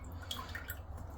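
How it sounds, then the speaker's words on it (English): Water from a newly installed tap runs and drips softly in a faint, steady trickle with a few light splashes over about a second. "Now we can run the water now."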